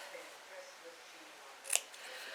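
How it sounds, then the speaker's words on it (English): Scissors make one crisp, close snip as they cut across the edge of rag quilt fabric, a short sharp sound over a quiet room hum. "On these edges here, you could just snip across like this."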